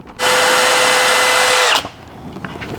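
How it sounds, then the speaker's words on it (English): A power drill bores a hole through aftermarket TS-style side skirts into the stock side skirts of a Honda Civic, whining loud and steady at close range for about a second and a half before cutting off. "So I'm just drilling a hole that slides through these bolts"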